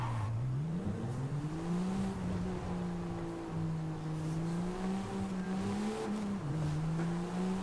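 A Land Rover Defender drives in the racing game Forza Horizon 5, its engine droning loud and continuous with gently rising and falling pitch as it accelerates, and no voices over it.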